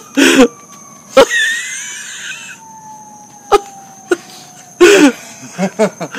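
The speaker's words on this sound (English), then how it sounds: "There's coughs!" Several sharp coughs come in scattered bursts, loud and close, with short gaps between them and a faint tone underneath.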